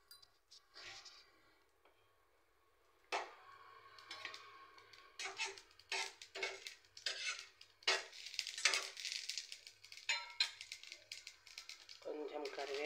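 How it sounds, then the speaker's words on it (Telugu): Whole spices hitting hot oil for tomato rasam crackle and sizzle in uneven, popping bursts that build up after a quiet start and keep going steadily. "ఆయిల్ వేడయ్యాక కొన్ని మసాలా దినుసులు వేద్దాము."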